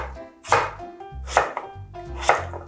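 A knife cuts peeled new potatoes into thick slices on a cutting board for a soy-braised potato side dish, with three crisp, evenly spaced chops landing close and clear over faint background tones.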